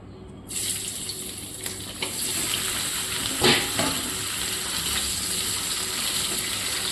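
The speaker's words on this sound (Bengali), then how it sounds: "এবার সেদ্ধ করে রাখা ফুলকপিটাকে অল্প তেলে স্লাইড একটু হালকা ভেজে নেব।" Boiled cauliflower frying in a little oil in a pan, giving a steady moderate sizzle and hiss throughout, with a few brief stirring scrapes near the middle.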